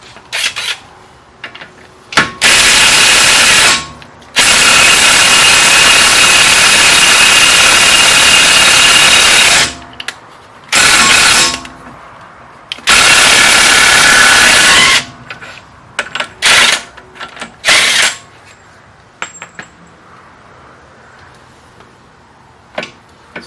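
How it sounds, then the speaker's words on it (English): A pneumatic impact gun loosens a 32 mm CV axle nut on a Mitsubishi Outlander's left front wheel, firing in several loud, sustained rattling bursts separated by short pauses, then dropping to a few brief taps and quiet shop noise. "We're gonna use a impact gun on this one."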